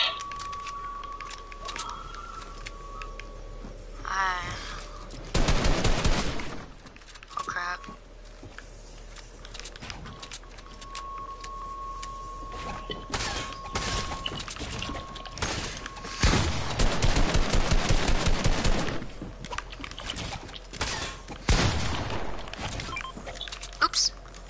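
Bursts of assault rifle fire in a Fortnite match, loud clusters of rapid shots in a couple of separate volleys amid other game noise.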